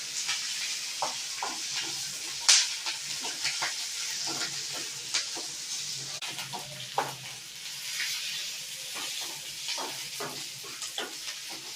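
Mashed eggplant bharta fries on a low flame, a soft continuous sizzle with repeated scraping stirs of a spoon in the pan, close and steady.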